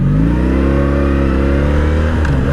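A 1984 Honda V65 Sabre 1100 (VF1100S) motorcycle engine revs loudly and continuously as it accelerates on the road, its deep, rising drone filling the whole stretch.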